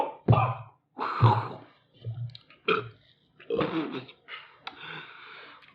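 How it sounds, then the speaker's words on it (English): Close, harsh coughing after a shot of vodka, heard as several rough bursts with gasping breaths between them. "I coughed halfway through."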